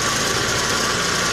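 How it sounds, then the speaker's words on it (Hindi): A Mahindra Gusto scooter engine runs close by as the throttle is opened, a loud, dense, steady mechanical whir with no voices. "धीरे धीरे खोलते रहेंगे इसका RPM गाड़ी का बढ़ता रहेगा"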